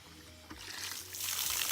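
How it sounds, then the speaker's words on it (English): Water from a well hydrant rushes out at a quick rate, a steady hiss of flow that swells louder toward the end. "When I first turn my hydrant on, I want you to notice how quick the flow rate is"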